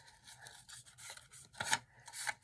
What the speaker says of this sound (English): I'm going to go ahead and fold it while I still have a little bit more to hold on to